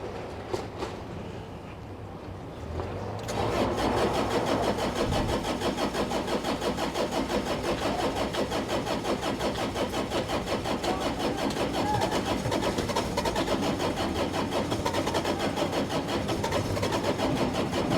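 A Bobcat E50 excavator's diesel engine cranks with a steady rhythmic churn after a few seconds of quiet, sustained and loud throughout as it tries to catch, with a rough idling, running quality.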